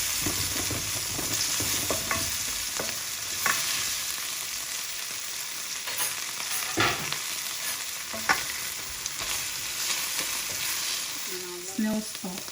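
Indomie noodles are stir-fried in a pan, giving a continuous hissing sizzle with scattered spatula scrapes and taps, and a short voice near the end.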